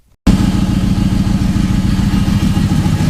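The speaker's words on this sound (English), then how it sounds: "It's just idling and dying, idling and dying." An LS-swapped Land Cruiser engine idles close and loud, with a steady low rumbling pulse and rapid clattery firing that holds roughly even throughout after a sudden start.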